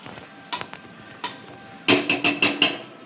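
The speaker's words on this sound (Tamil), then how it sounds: "சிக்கன் 65 செய்கிறேன்." A spatula scrapes and clanks against a pan while chicken 65 cooks, with a couple of isolated strokes followed by a quick burst of five rhythmic stirring clatters, close and fairly loud.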